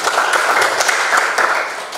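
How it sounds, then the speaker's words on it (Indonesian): A short stretch of steady applause from a class during a teaching session, dense overlapping claps at a consistent level that thin out slightly at the end. "tepuk tangan untuk itu."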